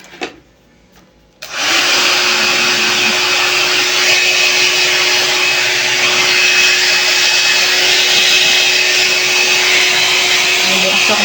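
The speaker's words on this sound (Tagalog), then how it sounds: "Blower na tayo ng buhok." After a brief quiet moment with a small knock, a hair dryer switches on and blows hair with a loud, steady close whoosh and a constant motor whine that lasts to the end.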